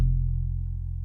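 Deep, sustained bass notes with a warm, rounded tone, playing alone and steady throughout, a synthesized upright bass from the Jupiter V8 plugin.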